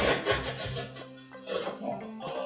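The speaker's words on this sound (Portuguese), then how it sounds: "com o auxílio desse mini formão, eu pressiono aqui, ó, ele vai fazendo o vinco aqui no MDF" A small mini chisel pressed and dragged into MDF to cut a groove, giving rough scraping, rubbing strokes close up with brief pauses between pushes.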